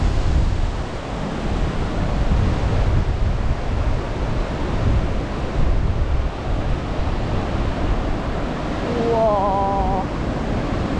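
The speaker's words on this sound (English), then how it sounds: "That is what you call some absolutely crazy waterfalls." Waterfalls roar on the 4000 Islands of Laos in the rainy season, a heavy, constant low rushing of water blended with gusting wind buffeting the microphone, with a brief faint tonal sound near the end.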